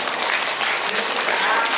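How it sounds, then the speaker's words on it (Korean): Dense, steady applause from a church congregation at a Christmas worship service, continuous and loud throughout with no pauses. "박수 한번 보내줍니다"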